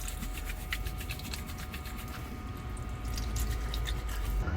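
Water trickles and splashes steadily into a small sink inside a camper van, fed by a foot-operated pump, with faint dripping and squishing textures running throughout.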